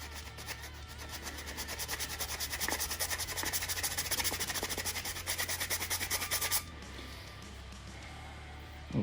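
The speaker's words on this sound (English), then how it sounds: "file out the nut slots" A small file rasps against a guitar nut in steady, rapid back-and-forth strokes, close and fairly loud, on a JS22-7 electric guitar, then stops abruptly near the end with a quiet pause.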